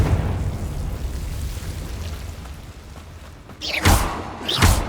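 A Confringo fire spell explodes in Hogwarts Legacy on PS5: after a low rumbling stretch, two sharp, loud blasts burst out close together near the end.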